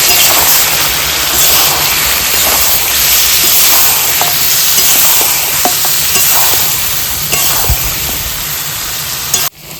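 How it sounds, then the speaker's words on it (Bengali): Meat sizzling and frying in a pan with ground spice paste, a loud continuous hiss with occasional pops and stirring scrapes, no voices. "মাংসটা হালকা ভাজা ভাজা হয়ে এসছে।"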